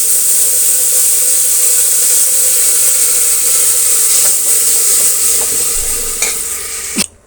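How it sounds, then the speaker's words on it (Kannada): Jackfruit seed sambar is stirred into a sizzling onion tempering, giving a steady bright frying hiss and light scraping of the spoon in the pan, with a few clinks and a louder knock just before the end. "ಈಗ ನಾವು ಸಾಂಬಾರನ್ನು ಬಗ್ಸೋಣ"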